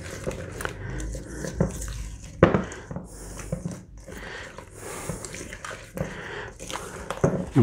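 Waldorf salad is stirred in a bowl after lemon juice goes in, giving soft wet clicks and scrapes of the utensil against the bowl with a few sharper knocks, close and fairly quiet.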